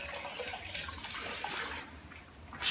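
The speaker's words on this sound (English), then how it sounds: "I wash the cloth." A cleaning cloth being washed in water during balcony cleaning, giving a steady close swish and trickle of running water with light splashing and no talking.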